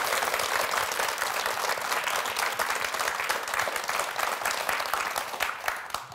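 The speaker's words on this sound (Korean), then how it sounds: "예, 박수 부탁드립니다." A studio audience at a televised Korean history lecture breaks into sustained applause, dense and even, many hands clapping steadily for several seconds before tapering slightly at the end.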